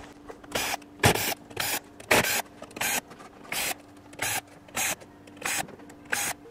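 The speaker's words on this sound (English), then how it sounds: "Next step, to unscrew the main board, we have all of these screws over here." Screws come out of the mainboard of an Onkyo TX-NR616 receiver, heard as a series of about ten short, evenly spaced whirring bursts from a close electric screwdriver, with quiet pauses between them.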